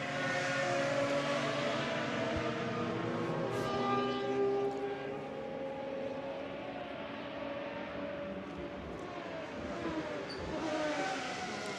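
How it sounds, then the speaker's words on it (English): A loud, sustained V12 race car engine roar at the Nürburgring with shifting harmonic tones, steady and continuous throughout, no voices. "Let's listen to that V12 roar."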